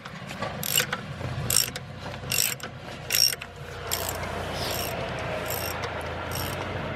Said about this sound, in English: I'm using an Allen key number 7 and a wrench.